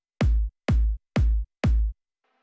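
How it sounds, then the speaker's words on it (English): Four punchy kick drum hits from an EDM track built in Cubase, evenly spaced about half a second apart, each deep booming thump with a sharp attack and short decay, loud and alone. "I have the kick."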